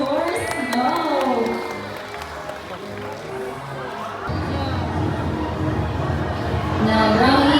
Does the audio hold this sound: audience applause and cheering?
yes